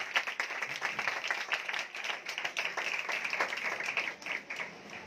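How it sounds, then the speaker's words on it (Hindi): A church congregation claps loudly in a pulsing wave of sharp, close hand claps that rises and falls for several seconds, with no talking over it. "इस कलाम के लिए जोरदार तालियां"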